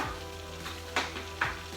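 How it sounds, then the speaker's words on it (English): Soft, steady sizzling of cube steak frying in hot grease, with a few brief louder pops and scrapes. "I got my cube steak frying"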